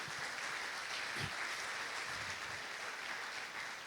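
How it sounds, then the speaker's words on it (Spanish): A church congregation at a Sunday Christmas Eve service applauds, a soft, distant, continuous patter of many hands clapping with a few low thumps underneath. "denle un aplauso al Señor"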